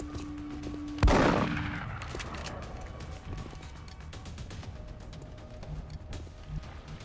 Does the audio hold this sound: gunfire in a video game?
yes